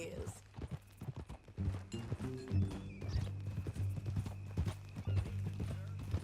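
Horse hooves clip-clop in Red Dead Redemption 2, an uneven run of hoof falls at a walking pace, with voices talking over them and a brief whinny near the start.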